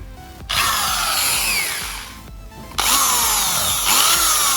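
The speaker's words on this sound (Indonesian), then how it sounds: "Ini aku pakai bor, kita coba ini untuk gerakannya." An electric power drill runs in bursts while testing an ampere meter on a simple single-phase electrical panel, a loud high whine starting, briefly slowing and stopping, then revving up again close by.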